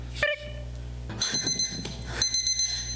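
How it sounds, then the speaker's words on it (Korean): Loud alarm clock ringing in the morning: two bursts of high, shrill ringing over a busy musical background, close and prominent. "시끄러운 알람 아침을 깨우는 소리"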